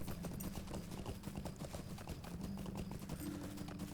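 Hooves of a horse mount clip-clopping steadily while travelling in The Lord of the Rings Online, a quick continuous rhythm of in-game footfalls over a dense background, with no speech.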